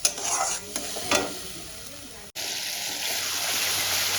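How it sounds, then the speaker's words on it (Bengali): Soaked spice paste and tomato sizzle and hiss loudly in a hot pan while being stir-fried, with scraping stirs at the start and a steady close frying sound that continues throughout. "দিয়ে এবার আমি ভালো করে কষাতে থাকবো"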